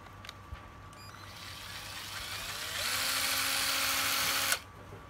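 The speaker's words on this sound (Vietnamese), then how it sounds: "đây là con máy khoan Ryobi 7V2, cực đẹp luôn" A collectible Ryobi 7.2 V cordless drill runs with a steady motor whine that climbs to a higher, louder pitch partway through, holds briefly, then stops sharply, heard alone and close.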